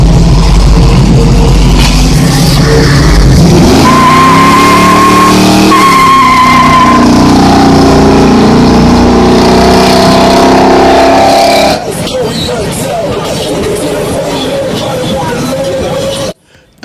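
A 1977 Chevrolet Monte Carlo spins its tires, engine revving hard under a long, loud, sustained tire squeal with pitch shifts, ending abruptly; crowd voices are faintly audible.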